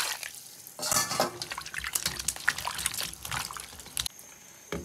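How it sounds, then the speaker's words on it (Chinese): Chicken is rinsed with water in a kitchen bowl, with faint splashing, trickling and sloshing close by, along with occasional clinks against the bowl. "加水洗一下，"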